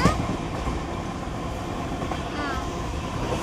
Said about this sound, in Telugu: ఈ ట్రైన్ చాలా ఫాస్ట్.